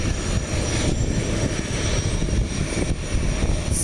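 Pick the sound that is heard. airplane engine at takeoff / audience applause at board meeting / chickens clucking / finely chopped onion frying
airplane engine at takeoff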